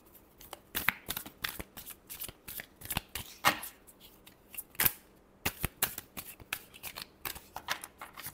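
Tarot cards being shuffled by hand, a steady run of crisp riffling slaps and flutters up close, with no voice over them.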